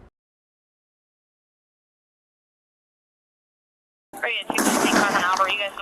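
Fireworks bursting at an apartment complex at night: after about four seconds of silence, a loud, dense burst of rapid crackling pops erupts close by and keeps going to the end.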